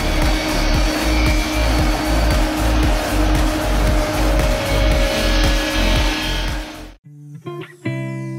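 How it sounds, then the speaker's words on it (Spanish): A wood-processing machine unrolls a log into a very thin veneer sheet, making a loud, steady mechanical roar with a rhythmic pulsing churn. It cuts abruptly to quieter, different clatter near the end. "Esta asombrosa máquina procesa la madera como si desarrollara un rollo de tela, lo que da como resultado una hoja finísima."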